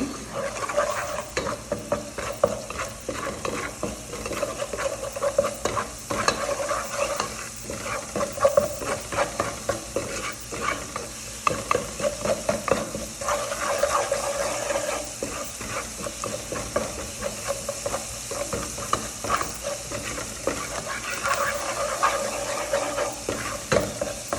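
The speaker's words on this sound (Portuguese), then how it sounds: "a gente colocou aqui os 2 dentes de alho, um pouquinho de óleo e uma pitadinha de sal. Nós vamos misturar aqui." Two garlic cloves with a little oil and a pinch of salt stirred in a pan, a steady sizzle broken by rapid repeated scraping of the spoon against the pan, close and fairly loud.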